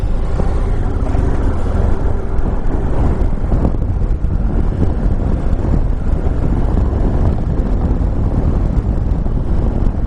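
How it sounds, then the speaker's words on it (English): Strong wind roars and buffets the microphone continuously while riding a 2017 BMW F800GSA motorcycle, a loud, dense rumble with no letup. "That is amazing how strong that wind is."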